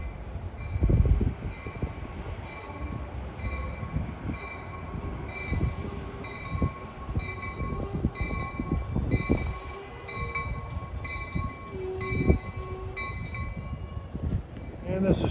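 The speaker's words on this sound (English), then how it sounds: "this is train 3853, departing off of track B for Trenton" Train 3853 for Trenton pulls out of Rahway station from track B, a steady close rumble with repeated wheel clatter and metallic squeal tones over the whole stretch, and a voice faintly present.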